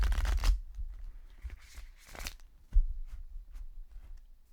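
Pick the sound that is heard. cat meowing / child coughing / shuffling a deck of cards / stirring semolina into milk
shuffling a deck of cards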